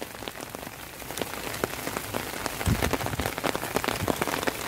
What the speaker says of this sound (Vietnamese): Mưa gió này.